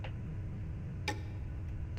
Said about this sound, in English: The only sound is the clock ticking each second away.